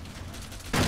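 Gunfire in Fallout 3 machinima bursts in abruptly near the end, a loud, dense volley cutting in after a stretch of low background noise.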